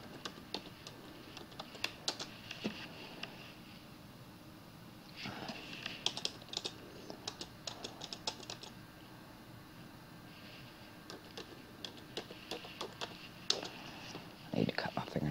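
Rapid, uneven keystrokes on a computer keyboard clatter close by in bursts and pauses, with a person talking at times in between.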